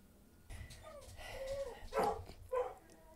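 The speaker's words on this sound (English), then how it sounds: "Hopefully her barking downstairs is not too much." A dog barking downstairs, a few muffled, distant-sounding barks and yips in short bursts, heard faintly through the house.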